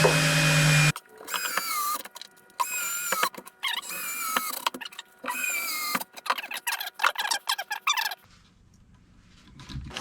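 A power drill drives screws into a custom entertainment center cabinet during installation, giving several close, whining bursts that rise and fall in pitch, separated by brief pauses.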